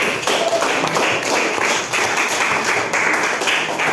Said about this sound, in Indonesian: kita tepuk tangan sebagai tanda persetujuan